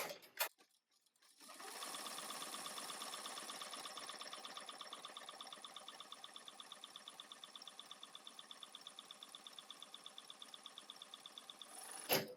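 A BAi embroidery machine starts up after a couple of clicks and stitches in a steady, rapid mechanical rhythm, quiet and close, during a thread tension test, ending with a sharp stop.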